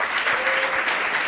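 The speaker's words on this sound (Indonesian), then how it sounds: "Kasih tepuk tangan dulu" An audience at an Islamic religious lecture claps together in a dense, steady burst of applause that fills the moment evenly and loudly, with no talking over it.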